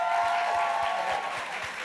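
Theatre audience at a live evening event with the cast of Schitt's Creek applauds steadily, a dense wash of clapping that fills the whole moment at moderate volume without speech.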